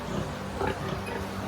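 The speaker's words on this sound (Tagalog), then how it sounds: "tunog ng baboy kung gusto niya magpadede" Soft, low grunts from a sow calling her piglets to nurse repeat in a quick rhythm, faint and close against a quiet background.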